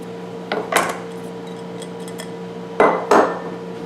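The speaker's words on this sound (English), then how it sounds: "Stir them in" Tomatoes being stirred into soup in a pot, heard as two pairs of sharp metallic clanks of a utensil striking the pot over a quiet steady hum.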